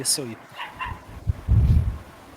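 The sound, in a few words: dog barking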